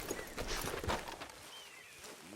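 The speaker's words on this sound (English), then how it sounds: "Get that horse out of here." Horse hooves clop steadily on the ground in Red Dead Redemption 2, fairly close and continuous, with game ambience and a faint high tone later.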